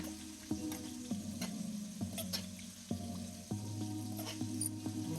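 Beef stew with tomato sauce being stirred in a pot produces soft, wet scraping strokes and a low bubbling sizzle, close and moderately quiet, with a few sharper utensil knocks.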